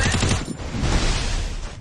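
Distant gunfire comes from across the map in a shooter video game, heard as a dense, rattling burst of rapid shots that blur into continuous crackle, moderately loud with no clear gaps.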